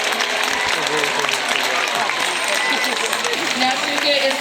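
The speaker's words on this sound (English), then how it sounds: "we're going to give a big round of applause for Shouka" A stadium crowd at an orca show claps for the female killer whale Shouka, steady and fairly loud applause while an announcer keeps talking over it.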